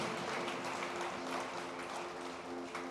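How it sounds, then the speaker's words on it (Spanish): A church congregation claps together in a dense, sustained wash of applause that holds evenly throughout, at moderate distance and with no speech over it. "Le damos un fuerte aplauso al Señor."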